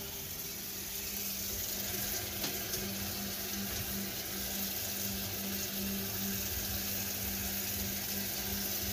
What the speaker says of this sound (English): I'm going to rinse her off